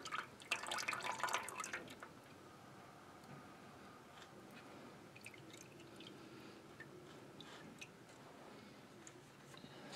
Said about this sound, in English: we can tip it up and let it drain out.